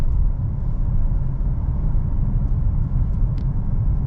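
2013 Ford Explorer police car driving through a neighborhood, a steady low road and engine rumble heard from inside the cabin, continuous and even with a faint click near the end, no talk.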